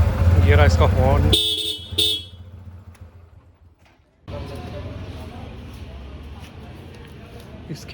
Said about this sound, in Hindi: ये रहा इसका हॉर्न।